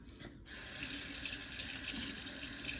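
A sink tap gushes water while a whisk is rinsed under it, starting with a brief splash, then settling into a steady, close, continuous stream.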